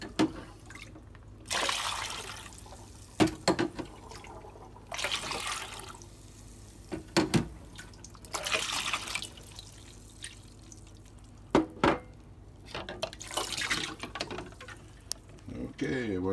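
Red raspberry mead pours and trickles during home bottling in several separate bursts of splashing liquid, close and fairly quiet, broken by small clinks and knocks of the equipment.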